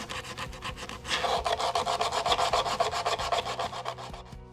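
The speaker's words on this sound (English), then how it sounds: "I've taken it down to 600 by hand. I've rubbed it all down by hand." Wood is sanded by hand with fine-grit sandpaper, up to 600 grit. Steady, rhythmic back-and-forth rubbing strokes repeat quickly and close up, with no talking.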